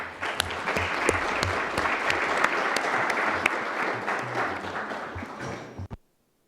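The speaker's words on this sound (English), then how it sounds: "Let's also give a round of applause to our panelists." Audience applause at a panel discussion event, steady dense clapping from a crowd lasting about six seconds before cutting off abruptly.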